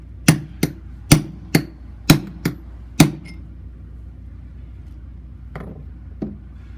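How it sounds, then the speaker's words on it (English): A hammer strikes an anchor setting tool driven into a concrete anchor: seven sharp, ringing metallic blows in quick uneven succession, then a pause and two lighter taps, close and loud with no speech. "just like pounding the anchor in"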